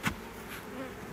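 Honey bees hum around frames during a summer apiary hive inspection, a constant close buzzing with a brief sharper rise near the start, no talking.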